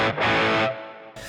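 An electric guitar chord rings through a Mezzabarba Even Drive overdrive pedal, loud and thick with distortion, then decays briefly before another strum begins at the end.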